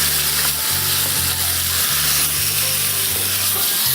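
Food browning in a hot pan gives a loud, continuous sizzle with a low steady hum beneath it, close up, with no talking.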